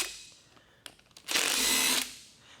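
A power tool briefly whirs as it backs out a 13mm bolt on a Ford 5.4L 3V engine's oil pan. A few small clicks come first, then a loud, close burst of about two-thirds of a second.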